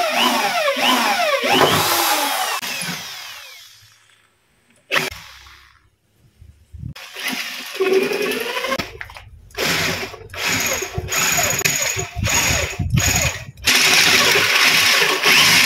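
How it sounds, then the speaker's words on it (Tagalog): A power drill bores a hole through a motorcycle light mount, with several short bursts of whirring and grinding separated by brief pauses, close and fairly loud. "Bubutasan na natin to."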